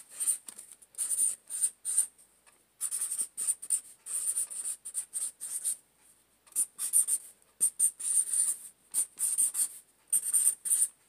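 A pen scratches across paper in short, close, quiet bursts of strokes with brief pauses between them, alone in a still room.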